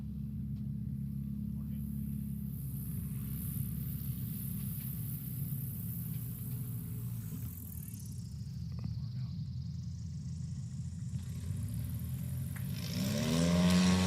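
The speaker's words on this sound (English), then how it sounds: "I want you to hear the tone pitches of his engine, how he rides that propeller down" Small STOL airplane at a National STOL competition, its engine and propeller holding a steady droning rumble on landing approach, with pitch shifting as the pilot rides the prop down, rising louder near the end.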